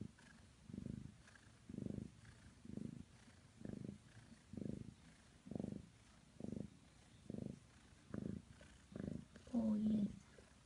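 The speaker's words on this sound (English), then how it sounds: "Little purr machine." A mother cat purring up close while being petted with her kittens, a soft, rhythmic rumble rising and falling in regular cycles about once every second, low and quiet, with a faint voice near the end.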